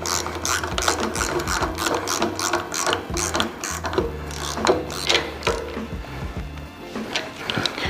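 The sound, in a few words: 13 mm socket ratchet snugging bolt on VW engine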